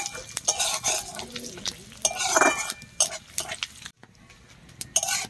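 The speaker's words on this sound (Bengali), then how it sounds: "তেজপাতাটি আমার ভালো করে ভাজা হয়ে গেছে" Dry red chillies, a bay leaf and panch phoron frying in mustard oil in a pan, with a close, steady sizzle broken by stirring scrapes and utensil clinks, briefly quieter near the end.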